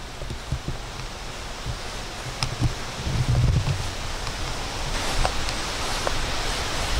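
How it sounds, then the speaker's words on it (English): Gusty wind blows steadily through an outdoor cemetery, a broad rushing hiss that swells around the middle and later, with faint rustling mixed in and no talk. "Really windy out today."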